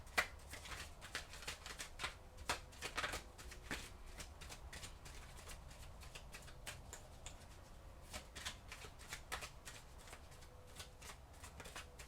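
Tarot cards shuffled by hand in a steady run of crisp riffling bursts and soft slaps, close and fairly quiet, with no talking.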